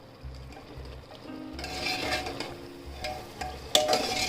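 Dal and meat are stirred in a pan on a high flame to dry off the water, with a soft steady sizzle, scraping strokes of a spoon against the pot, and a metallic clink near the end.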